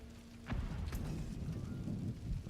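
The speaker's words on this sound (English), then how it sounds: "Everything's always raining and cold." Rain and thunder in the Diablo 4 game world: a steady wash of rainfall with a sharp thunder crack about half a second in, then continued rumbling rain at a moderate level.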